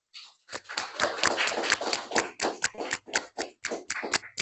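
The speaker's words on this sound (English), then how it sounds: "we'll just give him one round of applause before we let you go" A small group applauding, dense clapping that fades into scattered, uneven claps before stopping.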